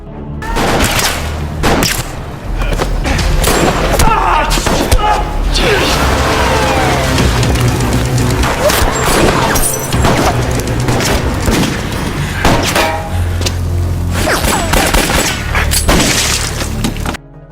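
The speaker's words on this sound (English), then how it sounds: "Suddenly, snipers from the North shoot at them." Sniper gunfire in an action film scene, loud sharp shots and booms with crashing impacts and debris scattered across a dense, busy film soundtrack.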